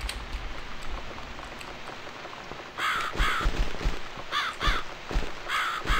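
Harsh caws from a crow in The Cat Lady repeat in bursts over steady rainfall, about five loud close calls in the second half after a quieter rainy stretch.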